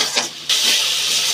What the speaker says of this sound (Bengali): ভালো করে এটা মিক্স করতে হবে, মশলাটা সুন্দর করে কষাতে হবে